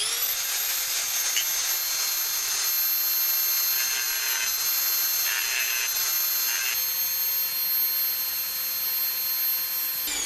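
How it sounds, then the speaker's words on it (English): A Dremel rotary tool files down a nick on metal while a U-joint is replaced, a loud steady high-pitched whine that holds throughout with slight grinding changes as it meets the metal. "I'm going to have to take my Dremel and file that down smooth"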